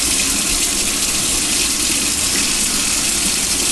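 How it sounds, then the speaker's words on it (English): Steady gush of water from a kitchen faucet rinsing a spatula, a loud continuous hiss and splash running unbroken throughout, with no talking. "I'm just going to rinse off my spatula from"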